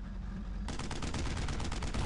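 Rapid bursts of automatic gunfire crackle in Brothers in Arms: Road to Hill 30, a World War II shooter, starting abruptly after a brief lull and continuing as dense, loud, overlapping shots.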